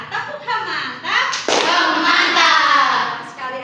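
A class of children claps together for a classmate in a school setting, bursts of close, crisp hand claps that swell into sustained group applause, with a teacher's voice and children's voices talking over it.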